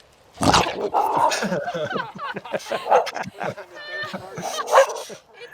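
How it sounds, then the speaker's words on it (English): A dog barks repeatedly near a disc golf course during a 2019 South Florida Open tournament round, loud yips and whimpers mixed with people talking. "His dog Sam says he's got other ideas"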